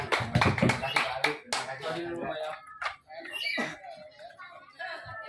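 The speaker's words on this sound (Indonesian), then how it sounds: "Sah. Tepuk tangan." A crowd claps at a neighbourhood RT head inauguration and handover ceremony, with a burst of close, dense applause fading into scattered claps, chuckles and murmured voices.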